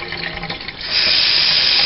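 Kitchen sink tap running with a steady rush of water, building to a louder, constant stream about halfway through, close by with no talking.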